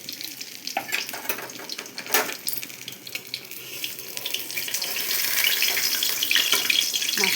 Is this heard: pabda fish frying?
yes